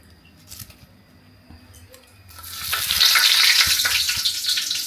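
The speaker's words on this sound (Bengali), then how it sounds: "সয়াবিন ভাজার তেলের মধ্যে আমি এখন দিয়ে দিব এই যে তেজপাতা" Bay leaves drop into hot soybean oil in a home kitchen, and after quiet handling noises a loud, crackling sizzle bursts up and keeps spitting close by until the end.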